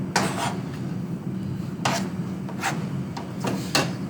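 A dull home kitchen knife dicing food on a wooden cutting board while cooking spaghetti napolitaine, giving scattered sharp taps and short scraping strokes at irregular intervals over a low background hum.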